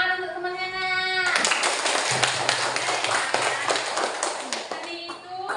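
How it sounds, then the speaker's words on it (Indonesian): Schoolchildren in a classroom clap for a classmate during a lesson, a dense burst of applause lasting about four seconds, bracketed by a teacher's voice before and after. "Tepuk tangan untuk temannya, nak."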